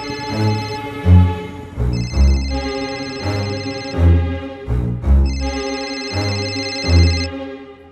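Phone ringtone with a melodic electronic tune playing in repeated phrases, loud and close, ringing out alone.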